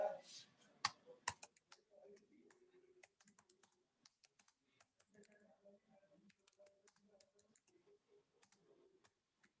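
Python code being typed on a computer keyboard during a live programming webinar: quick, irregular runs of light keystroke clicks, fairly close, with a louder burst of clacks at the start and steady tapping afterward.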